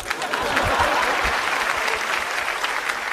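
A studio audience at a Shenyang comedy show claps steadily, a dense, continuous wash of applause filling the room at even loudness for a few seconds.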